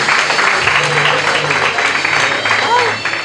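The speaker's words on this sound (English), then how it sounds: "Let's clap for them as they make their way." Applause rises from a crowd at a Nairobi graduation ceremony as graduates walk up, steady clapping of many hands with a voice talking over it.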